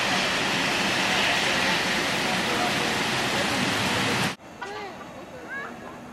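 Heavy rain falls near a river in a park, a loud, dense hiss that runs steadily and then cuts off abruptly, leaving faint background sounds.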